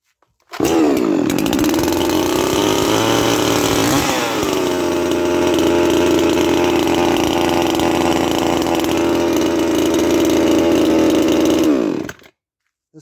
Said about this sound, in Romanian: Uitați cum pune și o drujbă după 3 săptămâni.